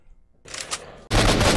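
Gunfire in the game S.T.A.L.K.E.R.: Shadow of Chernobyl, with a short scattered rattle of shots followed by a sudden loud, dense blast of fire at close range.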